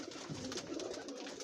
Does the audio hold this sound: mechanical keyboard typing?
no